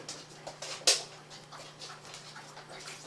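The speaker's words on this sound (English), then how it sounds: "Excuse the dogs in the background wandering about." Dogs pant and shuffle around nearby, with a soft whimper and a brief sharp noise amid quiet background movement.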